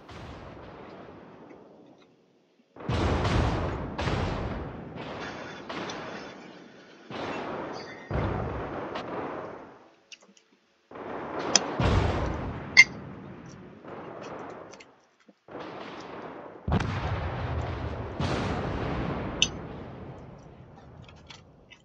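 Warship guns firing in the naval video game World of Warships during a T10 clan battle, a series of heavy booming salvos with rumbling tails, spaced irregularly over quiet gaps, with no talk.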